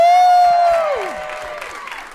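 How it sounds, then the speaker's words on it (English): A loud, sustained whoop that slides downward opens a concert, with a crowd's applause and cheering faint beneath it. "Big round of applause."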